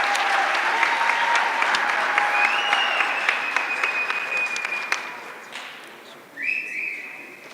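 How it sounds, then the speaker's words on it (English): Sustained audience applause at an award ceremony for the International Day of Clean Air for Blue Skies, loud and dense clapping that gradually thins out, with a brief fresh burst near the end. "Round of applause."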